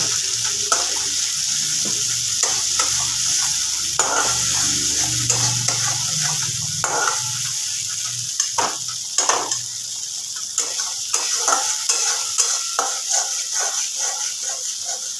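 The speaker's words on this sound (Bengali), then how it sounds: "এইবার আমি আঁচটা কমিয়ে আস্তে আস্তে করে আমি মশলাটাকে নাড়াচাড়া করব" Ground garam masala with cashews is stirred slowly in a pan over low flame, giving a soft continuous sizzle with frequent scraping spoon strokes close by, and a faint low rumble early on.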